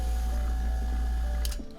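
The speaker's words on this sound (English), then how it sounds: "And then the vacuum pump can smoke our cigs for us." A vacuum pump drawing cigarette smoke through a water trap hums with a steady low drone and a mechanical whir, then cuts off abruptly with a short clatter.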